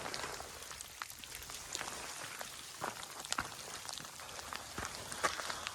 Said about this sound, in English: See the rain coming down, freezing rain with the temperature just below 32